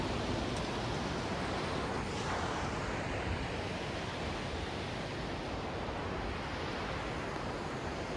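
Several waterfalls pouring together in the Gangotri valley, a dense, steady roar of rushing water that holds constant and loud throughout, with no voices.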